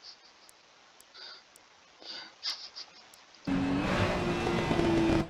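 A race car in Assetto Corsa Competizione at Barcelona downshifts and brakes, with faint engine blips and revs first, then a sudden loud, steady engine roar near and alone.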